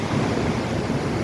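Sea waves wash and roar with wind buffeting the microphone on Daman beach, a brief, dense, continuous surge with no voices.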